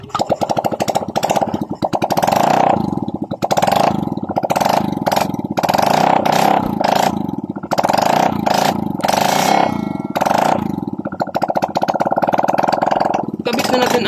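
A Honda Click 125 fi scooter engine runs with its muffler removed, a loud, raw, continuous clatter with rapid throttle surges and dips over most of the stretch, close by.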